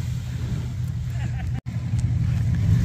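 A Chevrolet Suburban in two-wheel drive roars while stuck in Florida mud, a loud, steady low engine rumble that cuts out briefly midway, with voices over it.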